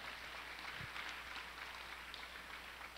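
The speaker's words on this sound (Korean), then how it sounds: "우리 세 분 연주자님들께 다시 한번 큰 박수 부탁드리도록 하겠습니다" Faint, distant applause from an audience at an autumn church music service, a continuous soft patter of many hands for three performers.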